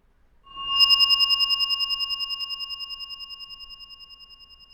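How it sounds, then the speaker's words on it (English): A short tone processed with a repeating echo effect in Audacity pulses rapidly and evenly, each ring-like repeat slowly fading over several seconds with no other sound. "select Echo, and just make a short echo that will keep repeating and repeating for quite a while"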